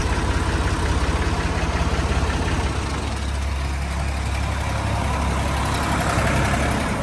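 A Massey Ferguson 240 S tractor engine idles steadily close by, a continuous low diesel rumble with a fine knocking pulse that holds loud and even throughout, with no talking.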